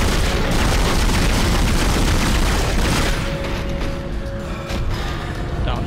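Loud, dense bursts of gunfire and booming impacts from Dead Space fill the scene continuously, slightly easing after the midpoint before picking up again.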